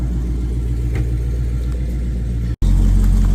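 A car with a custom exhaust rumbles loudly up close, a steady deep throb with a brief cut near the end before the engine returns louder.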